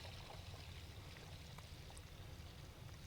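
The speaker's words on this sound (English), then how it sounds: "let's go ahead and finish putting in the rest of our water" Steady water pouring and splashing into a container, a continuous rushing flow with no voices.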